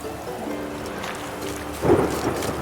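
Rain falls steadily in The Witcher 3 video game, with a low rumble of thunder swelling briefly near the end, no voices over it.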